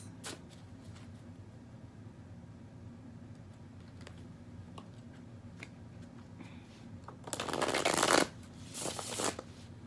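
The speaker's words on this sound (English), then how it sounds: "I'm so sorry if you don't like the sound of the shuffling." Playing cards are shuffled close by: scattered soft flicks and taps, then a louder riffling burst near the end, with no talking.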